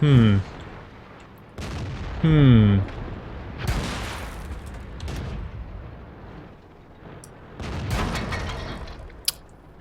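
Artillery and gunfire go off in World of Tanks: repeated booming shots and explosions, some with ringing, sweeping tones, spread over several seconds and mixed with the game's other noise.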